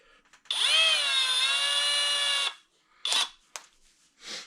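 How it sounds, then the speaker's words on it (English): A power drill with a small bit, drilling an eyelet hole, whines steadily at high speed for about two seconds, then gives a few short bursts with quiet gaps between. "We are also going to need a smaller drill bit that we can drill the hole for the eyelet with"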